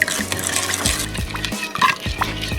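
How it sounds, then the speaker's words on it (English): Venison marinade of red wine or white vinegar being stirred in a bowl, wet sloshing and clinking strokes in a quick irregular rhythm, close and fairly loud. "stir it all up"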